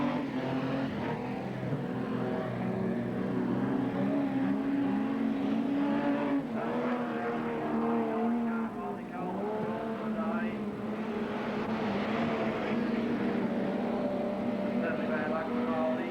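Modified sedan race cars racing at Western Speedway, Hamilton, in the 1991 Victorian title: a continuous engine roar from several cars, rising and falling as they pass, under a commentator's voice.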